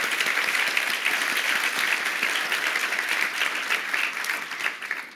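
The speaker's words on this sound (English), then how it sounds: "Another warm round of applause and warm welcome to Saša Jurić." Live podcast audience giving a warm round of applause to welcome Saša Jurić, a dense, steady wash of clapping from a full room, with no talk over it.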